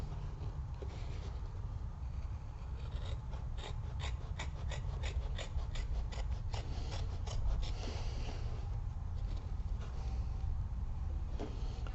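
Fabric of a handmade toiletry kit trimmed with scissors, a run of quick, evenly spaced crisp snips close by, with soft rustling handling noise before and after and no talking.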